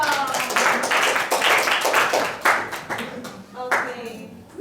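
A small group in a classroom claps in several bursts, close and lively, with brief pauses between rounds and some voices alongside.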